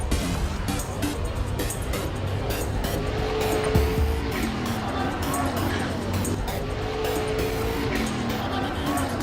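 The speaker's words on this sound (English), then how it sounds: "If you're not familiar what Class 1 buggies are capable of, check this clip out." Class 1 off-road buggies race in a continuous engine roar with tire squeal and a pass-by whoosh, loud and steady throughout with a faint voice underneath.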